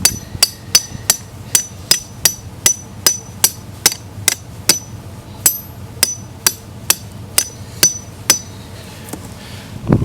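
A trap stake is driven into the ground with a regular hammer, not a sledgehammer: about twenty sharp, evenly spaced metallic strikes ring out close and loud over a quiet outdoor background, with no talking.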